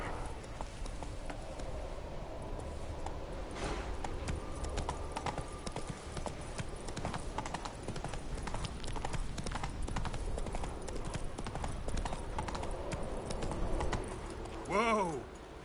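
Roach the horse gallops in The Witcher 3, a steady run of clip-clop hoofbeats throughout, with game sounds layered over them and a short whinny near the end.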